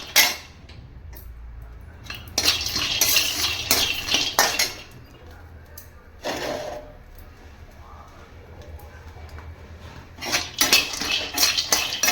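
Almonds, cashews, pistachios and cardamom are dry-roasted in a pan, the nuts rattling and scraping in bursts as a metal spoon stirs them, with quieter gaps between.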